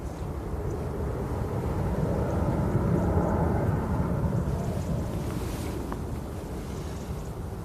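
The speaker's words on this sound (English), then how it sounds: "That was the EasyJet A380 to Hamburg." EasyJet jet aircraft departing Manchester Airport, a loud broad engine roar that swells and slowly fades with wind noise, no speech.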